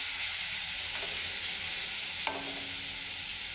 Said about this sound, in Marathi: आणि कढीपत्ता चांगला झाला की त्याच्यावर आपण हा टोमॅटो टाकतो आहे